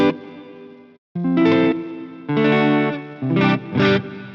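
An electric guitar, a Strat-style model with a roasted maple neck, is played through heavy distortion in several sustained chords and short bursts separated by brief gaps, loud and gritty with no talking.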